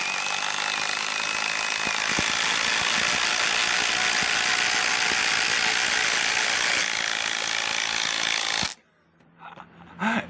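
Masterforce and Ryobi brushless impact drivers run together in a loud, continuous rattling whir that stops abruptly near the end, leaving quieter handling noises.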